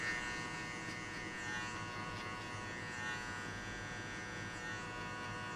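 Steady electric hair clipper buzzing continuously and close up throughout a buzz cut and high fade haircut, with no talking.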